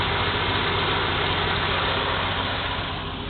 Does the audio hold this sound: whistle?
no